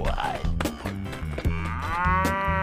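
A cow moos in long, drawn-out, loud calls with a rising tone near the end, close by, alone with no talk.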